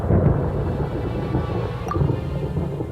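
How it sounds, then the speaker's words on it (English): Deep, continuous rumble of thunder in the video game Genshin Impact, loud and steady throughout with a faint rain-like patter and a small bright ping near the end. "Paimon hears thunder!"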